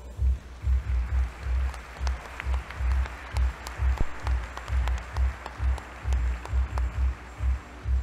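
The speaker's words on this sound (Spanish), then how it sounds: "Fuerte aplauso para él," An audience at the CADE Ejecutivo 2019 business conference applauds a speaker, producing steady applause with regular low thumping pulses that lasts the whole eight seconds and has no talking.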